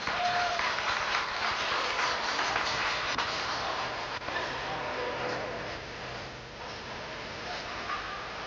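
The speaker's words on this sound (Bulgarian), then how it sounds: "Аплодисменти, уважаеми дами и господа." An audience at a 1993 fashion show in Kyustendil, Bulgaria, claps in dense, sustained applause that stays steady and loud, then eases slightly toward the end.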